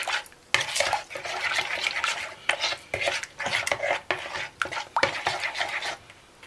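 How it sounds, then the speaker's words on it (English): A utensil scrapes and stirs a meatball mixture seasoned with salt and black pepper in a bowl, giving repeated close, rhythmic scraping strokes with short pauses between them. "And just stir it around a little."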